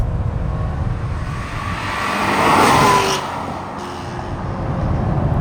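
An older used Maserati accelerates hard under power, its engine note swelling and dipping as it shifts gears, steady and fairly close throughout.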